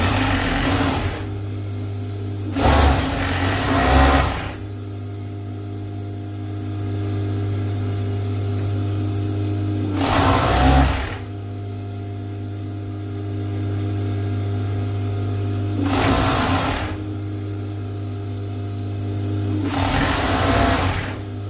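A sewing machine stitches a three-thread fleece tracksuit for a 3–4-year-old, with a rib-knit waistband, producing a steady close motor hum broken by several louder bursts of rapid needle clatter.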